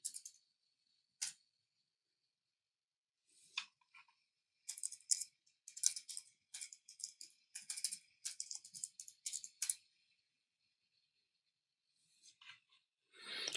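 Quiet, close computer keyboard typing comes in short bursts of light clicking keystrokes separated by brief pauses, with no talking.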